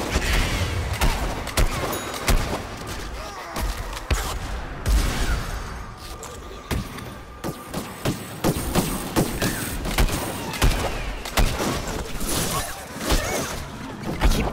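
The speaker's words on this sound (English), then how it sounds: "Why are you shooting me?" Gunfire in the video game Plants vs Zombies Garden Warfare 2, with dense bursts of shots, thumps and impacts that continue almost without pause, loud and close.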